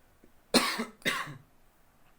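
Two short, harsh coughs in quick succession, fairly close, followed by quiet.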